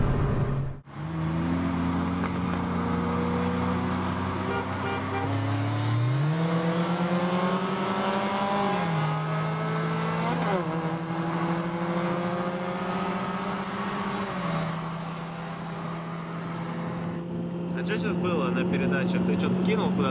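Lada Granta and Priora cars racing, a steady engine drone rising in pitch through gear changes with sustained acceleration, loud and close from inside the car, with people talking over it.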